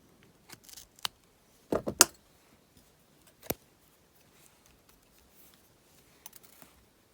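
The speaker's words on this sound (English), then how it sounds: "I think I can cut off that weaving wire too" Thin weaving wire snipped with small cutters while making a wire-wrapped wave pendant: a few sharp, isolated clicks spread over several seconds, close and fairly quiet, with no talking.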